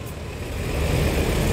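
A new Sinar Jaya Suites Combi double-decker bus engine idles close by with a dense, low, steady rumble that swells slightly.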